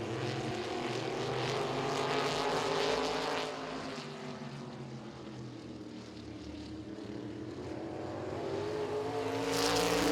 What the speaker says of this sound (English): Now Nash exits turn number 4, and he's your new leader.